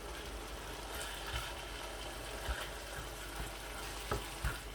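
Keema mutter frying over a high flame, a steady close sizzle with occasional soft stirring knocks and clinks, no voices over it.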